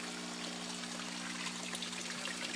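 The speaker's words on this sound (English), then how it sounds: "you can actually see the water bubbling right there in the corners" Water bubbling from air stones in an aquaponics pond, a steady continuous trickling and gurgling wash with a constant low pump hum underneath, close and even throughout.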